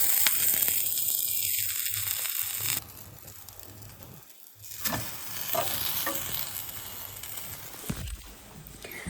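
Garlic bread toasting in a pan gives a faint sizzle, with scraping, stirring and handling noises partway through, close by and moderately loud.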